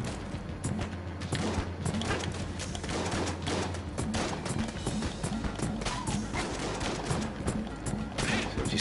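T-shirt cannon gunfire in the video game Enter the Gungeon: dense, rapid volleys of shots and impacts pound steadily throughout, layered over busy game music and effects.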